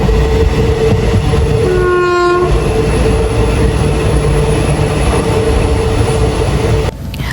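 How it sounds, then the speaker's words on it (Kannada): A passenger train running on a railway in Kerala: loud, continuous rumble of the carriages with a brief horn blast early on, heard from on board and close, with a sudden drop in level near the end. "ಟ್ರೈನ್ ಜರ್ನಿ ಒಂಥರ ಚೆನ್ನಾಗಿರುತ್ತೆ ಒಂಥರ ಒಳ್ಳೆ ಅನುಭವ ಕೊಡುತ್ತೆ"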